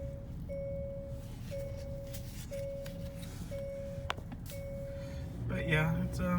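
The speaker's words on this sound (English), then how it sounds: "Silly seatbelt chime." Inside a 2019 Hyundai Santa Fe, the seatbelt warning chime repeats as a steady series of short, evenly spaced electronic tones over cabin hum, while a person talks.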